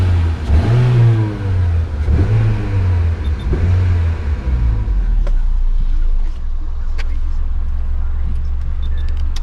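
A 1.8-litre Honda Civic engine revved several times with the door open, each blip of throttle rising and falling in a close rumbling surge before settling back to a steady idle.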